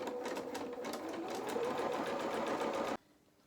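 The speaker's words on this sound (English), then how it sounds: "we're just going to do the zigzag stitch just to neaten this edge as we have done before" A sewing machine runs a steady zigzag stitch along the edge of a felt doll piece, a fast, even mechanical whir at close range that stops abruptly near the end.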